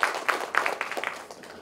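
Scattered applause from a small audience at a business seminar, a brief patter of hand claps, fairly close and uneven in rhythm.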